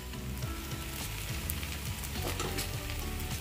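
Ghee drizzled over biryani in a pot, with the gas switched off, gives a soft, steady crackling sizzle with light popping, close but fairly quiet, and no talking.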